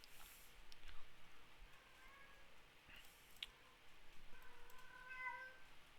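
A pet cat at home meows softly a few times in short, high calls, faint and close, over quiet room noise with scattered light clicks.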